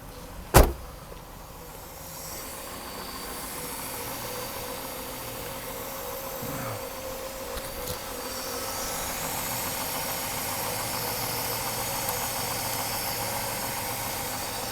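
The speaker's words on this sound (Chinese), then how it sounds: "大哥来做第一次冷车发动。 OK， 已经发动了。" A Mercedes W126 300SEL starts cold with a sharp click, then settles into a steady, moderately quiet idle hum around 900–1000 rpm, with a faint knock partway through and the engine running alone.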